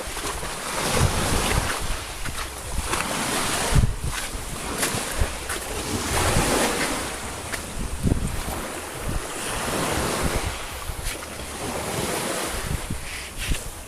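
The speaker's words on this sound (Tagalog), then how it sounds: "Lakas po ng alon." Strong ocean waves crash and surge near a seaside cave, a loud, rolling roar of surf that swells and recedes in repeated bursts, buffeted by heavy wind noise across the microphone.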